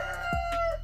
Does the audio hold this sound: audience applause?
no